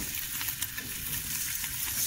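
Food frying in a pan, cooked during a stay on the Pacific coast, gives a steady, close hiss with a crackle of small pops and no talking.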